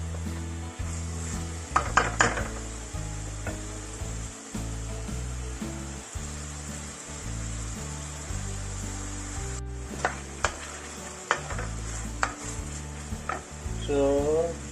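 Ampalaya (bitter melon) and salmon fry in a pan with a steady sizzle while a utensil stirs and scrapes, making repeated clicks and rubbing knocks against the metal, with no talking.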